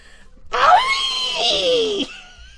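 Katawa Shoujo video game: a single shrill, wavering scream bursts in loudly, rising and falling for about a second and a half before cutting off abruptly.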